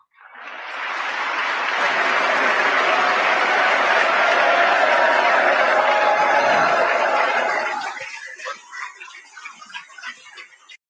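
An audience at a political speech on Israel breaks into sustained, dense applause for about eight seconds, then trails off into scattered claps.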